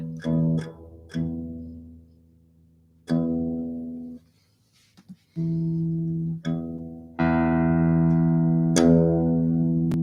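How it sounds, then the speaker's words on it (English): A single guitar string is plucked again and again with pauses between, each note ringing out and fading, while the tuning is adjusted. "you're gonna like hit the string over and over again"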